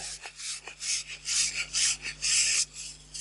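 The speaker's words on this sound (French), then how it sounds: "pour nettoyer la pâte à rôder sur le siège et sur la soupape, c'est de l'acétone" A rag soaked in acetone is rubbed over a Renault 4L engine valve and its seat to clean off lapping paste. Rough, rhythmic rubbing strokes repeat, some quick and some longer, up close with no talk.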